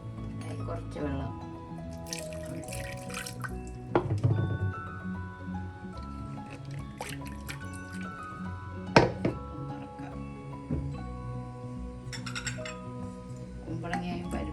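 Water is added to a cooking pot for a pumpkin and lentil curry, with close wet dripping and liquid filling sounds in uneven bursts while a voice is heard in the background.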